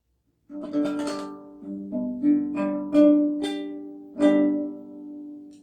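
An acoustic guitar chord strummed several times in a slow, uneven rhythm, each strum ringing out clearly before the next, with no voices.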